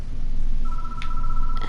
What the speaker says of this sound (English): It doesn't seem to want to stop ringing, so I reach for the phone.